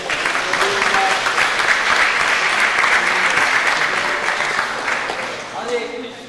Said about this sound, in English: kindly give her a big round of applause